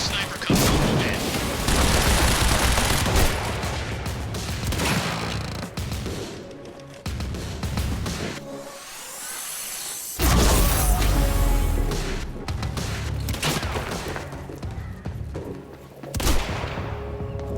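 Rifle shots and bursts of gunfire from a sniper firefight in the game Quantum Break, loud and repeated, with sharp impacts clustered at several points and dense continuous firing throughout.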